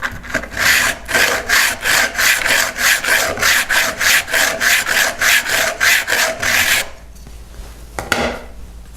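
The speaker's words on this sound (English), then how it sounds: "You hold that file square to the sides of the scraper or flat to the surface, and you file it" A file is pushed back and forth across the edge of a steel cabinet scraper in a steady series of close, rasping strokes, about a dozen in quick rhythm, before stopping.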